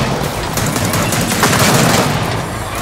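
Sniper rifle fire in the Gears of War 4 video game, a loud, dense wall of gunfire and crackling impacts that stays steady and close for nearly three seconds with no pause.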